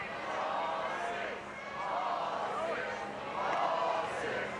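A large crowd chants in rising, rhythmic waves, many voices swelling and falling together in a big echoing arena.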